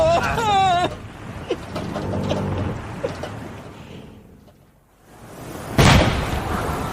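Loud booming blasts of naval cannon fire rumble through a noisy shipboard battle scene, with a sharp burst near the end; a voice is heard briefly at the start.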